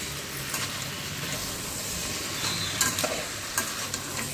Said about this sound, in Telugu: అవి వేగుతున్నప్పుడే కొద్దిగా అల్లం వెల్లుల్లి పేస్ట్ వేసుకుందాం